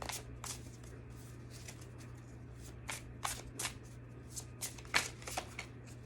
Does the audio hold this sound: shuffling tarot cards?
yes